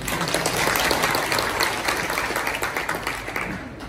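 An audience claps at a business talk show featuring entrepreneurs and economists. The applause is a thick, sustained wash of many hands, fairly loud and even, easing slightly near the end.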